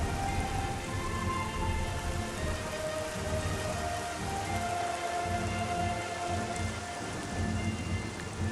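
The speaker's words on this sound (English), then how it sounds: "The rain in this game looks so much better." Steady, dense rainfall in the video game Metroid Prime Remastered patters across surfaces, a continuous wash of drops with no voices, holding evenly throughout.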